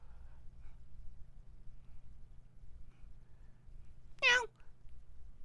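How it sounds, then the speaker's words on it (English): A pet cat gives a single short meow close by, breaking a quiet room with low background hum. "Throw that damn cat in the garage somewhere."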